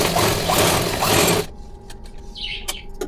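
A sewing machine stitches fabric in a dense, steady mechanical whir for about a second and a half, then stops abruptly, leaving faint room noise with a few light clicks and distant chirps.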